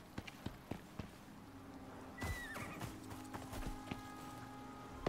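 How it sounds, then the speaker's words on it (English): A mini horse in the Icarus video game whinnies and snorts while its hooves clip-clop in scattered, uneven steps, with sharp hoof knocks at the start and a louder neigh around the middle, heard close up. "Mini horse."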